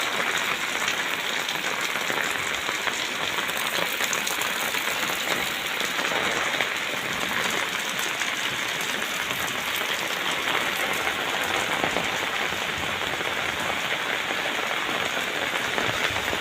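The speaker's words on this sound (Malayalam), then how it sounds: "സൂപ്പർ മഴയല്ലേ ഗുയ്സ്? നോക്കുക നോക്കുക നോക്കുക, തകർത്ത് വാരികയാണ്." Heavy rain pours down in a dense, unbroken hiss that stays loud and even throughout, with no voices heard.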